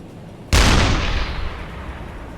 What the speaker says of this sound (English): I do like how the deck gun is a little bit hard to aim.